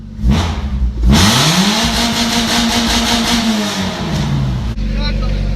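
A stock Mazda Miata engine idles and revs up and down repeatedly, loud and close, settling into a steady rumble as it warms up.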